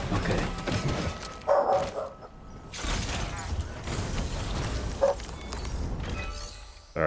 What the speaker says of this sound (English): Sorry if you hear my dog.